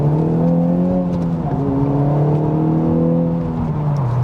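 A Honda Civic Type R engine revving in third gear: a steady, loud, droning hum from inside the car that rises and falls slightly, heard alone.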